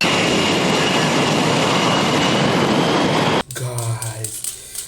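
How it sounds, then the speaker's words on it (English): Loud, steady roar of a fighter jet engine filling most of the clip, then cutting off abruptly near the end, where a brief stretch of other sounds with voices takes over. "Guys, this is fighter jet."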